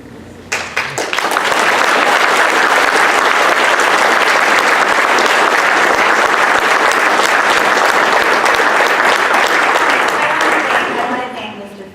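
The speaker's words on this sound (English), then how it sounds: "let's give him another round of applause" Sustained audience applause fills a hall at a county officials summit, a dense roar of many hands clapping that starts abruptly, holds loud and steady for about ten seconds, then tapers off.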